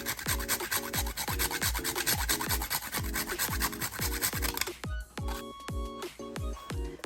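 Whole nutmeg is grated into a bowl with quick, evenly spaced rasping strokes, close and clear, about two per second, with no talk.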